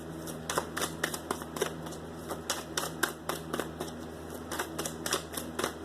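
Tarot cards are shuffled and drawn in a rapid run of crisp riffling snaps and flicks, close and fairly quiet, with no one talking.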